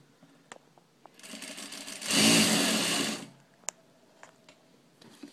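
A Juki DDL8700 industrial sewing machine runs at its highest speed, a dense, fast whir that ramps up, holds loud for about a second, then winds down, with light clicks and handling sounds around it.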